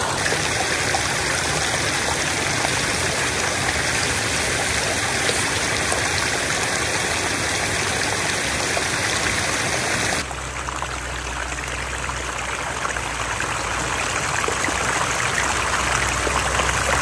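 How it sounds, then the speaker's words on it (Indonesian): River water flows and gurgles continuously and loudly at close range while radishes are washed in it, the rushing sound shifting in tone partway through. "sekarang suamiku lanjut untuk mencuci lobaknya di sungai"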